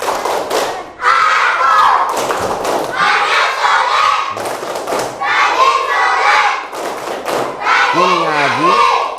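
A group of children perform the tepuk anak soleh clapping chant, rhythmic claps in bursts with shouted chanting voices, loud and close in a busy room.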